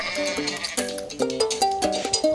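A cartoonish goat bleats in the Goat Simulator video game, a quick run of several wavering, nasal bleats in an uneven rhythm, loud and close with nothing else around them.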